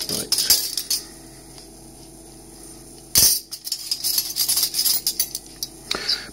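Washed metal cutlery handled and sorted, giving bright clinks and jangles in irregular bursts, with a dense rattling cluster near the middle and lighter clatter around it, close and fairly loud.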